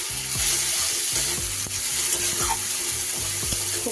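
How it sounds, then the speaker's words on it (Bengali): Spices such as ground coriander and cumin fry with tomato in a pan for a bottle gourd curry, a close, continuous sizzle under a rhythmic, repeated knocking or stirring pattern. "খুব ভালো করে সব মশলা কষিয়ে নেব।"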